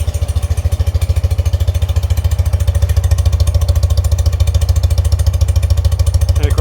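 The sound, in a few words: 1978 BMW R 80/7 motorcycle engine idling under 1,000 RPM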